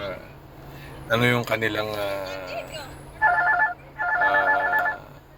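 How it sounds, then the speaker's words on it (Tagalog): A phone rings with an incoming call, short bursts of electronic ringtone that repeat after a moment, preceded by a voice talking nearby. "Tumatawag si Gino"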